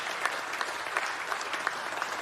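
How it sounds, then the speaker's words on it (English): An audience at the 2026 Fieldays Innovation Awards claps for the judges, a full, even burst of applause with faint regular accents running through it and no talking over it. "What about a round of applause for the judges in this one?"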